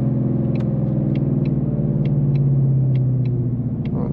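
Ford Mustang with a 10-speed transmission holding its revs, a loud steady low engine drone with a slight rise in pitch near the middle, heard from inside the car.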